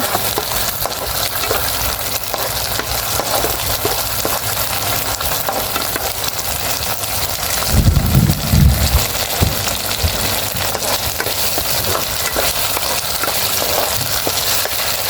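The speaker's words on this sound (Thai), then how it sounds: "ผัดให้เครื่องแกงในพริกแกงหอมดีเลยนะคะ" Curry paste stir-fries in a hot pan for spicy pork bones, with a constant close crackling sizzle and a brief louder scraping stir midway. No talking.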